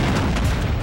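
Grenade explosion in the video game Secret Service, a single loud, deep, boomy blast filling a brief moment.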